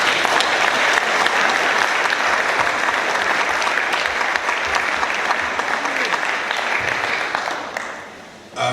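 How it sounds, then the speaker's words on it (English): Sustained applause from an audience at a Rotary Club meeting fills the room for several seconds, thick and steady before tapering off at the end. "Let's give them another round of applause, please."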